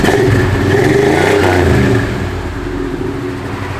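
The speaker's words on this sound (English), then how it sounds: "Give a little rev, Gary." The engine of a 1979 Ford F-150 Ranger XLT pickup revs loudly and close, holding high for about two seconds before easing back to a steadier lower drone.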